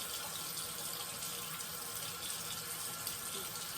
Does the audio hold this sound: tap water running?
yes